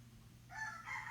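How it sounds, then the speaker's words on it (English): Roosters crowing outdoors, two calls in quick succession at moderate distance, heard over a low steady background hum. "I thought I could beat the roosters, but they're coming"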